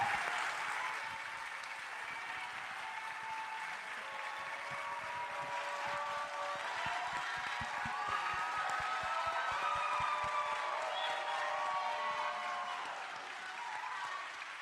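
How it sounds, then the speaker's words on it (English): Audience applause for Congresswoman Jasmine Crockett at a congressional town hall, a long steady wash of clapping from a sizeable crowd heard slightly distant, with cheers and voices rising through it. "Can y'all help me give her a round of applause"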